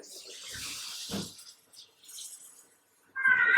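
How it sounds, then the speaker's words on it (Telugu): Water poured into a cooking pot of Telugu boti kura (goat tripe curry), heard as a soft close splashing stream that fades and returns, with quiet gaps between pours. "వాటర్ పోస్తున్నా."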